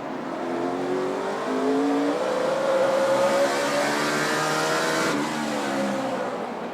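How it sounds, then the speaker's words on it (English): NASCAR Sprint Cup race car engine at Martinsville Speedway, heard loud and continuous as it revs and climbs through the gears, with rising harmonic whine and a brief drop near the end, no talk over it. "Chance to listen into the engine."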